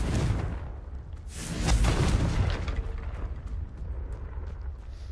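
A Confringo spell explosion from a Hogwarts video game goes off as a loud, rumbling boom. A second whooshing burst swells partway through, then the sound fades into a fizzing rumble, with no talking.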